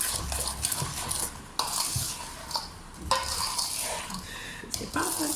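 Food being stirred in a cooking pot with a utensil, scraping and light clinks of metal over a faint sizzle, irregular strokes at close range.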